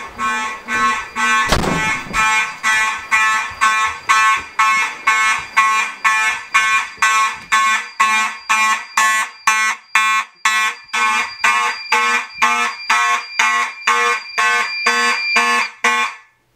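A Simplex fire alarm horn blasts in rapid, evenly spaced pulses, loud and relentless, with a brief thump near the start and no talking.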